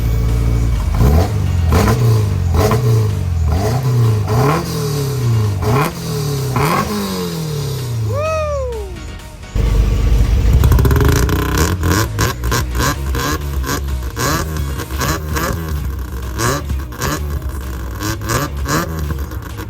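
A Honda Beat kei car engine revs repeatedly in rising, buzzy surges, climbs through a high whine and shifts gear, then pulls away loud and close under a rush of road and wind noise, with no voices.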